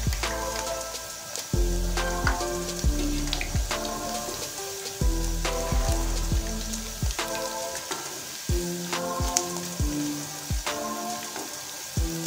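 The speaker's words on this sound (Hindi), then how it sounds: "ये देखिए पकौड़े बहुत अच्छे से फ्राई हो चुके हैं" Spinach pakoras deep-fry in hot oil with a continuous bubbling sizzle, punctuated by regular crackling bursts and clinks of a utensil, heard close and without speech.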